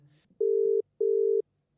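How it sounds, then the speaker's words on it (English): Outgoing phone call ringing tone, two steady electronic tone bursts with a short gap between them, clear and close, after a brief bit of faint background noise. "All right, so we're ringing your friend Courtney."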